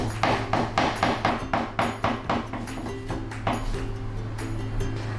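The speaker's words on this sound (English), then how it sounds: "let's cut the stem off and roll it up so that it's easy to cut. And let's make very thin slices." A knife thinly slices rolled salad spinach on a cutting board, a quick run of crisp, evenly spaced chops close by, slowing slightly toward the end.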